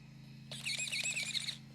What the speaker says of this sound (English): It's got some good steering servo there.